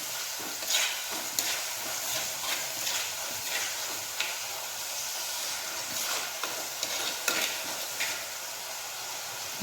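Sliced onions sautéing in a pan for a boti (tripe) curry, a steady close hiss and sizzle with scattered scraping stir strokes throughout, no voices.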